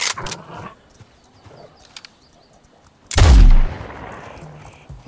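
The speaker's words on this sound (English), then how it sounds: "And it feels satisfying as well when you shoot." A single loud, close gunshot blast from a weapon in the survival game Nightingale, a sharp burst followed by a decaying rumble, after quieter game ambience with faint bird chirps.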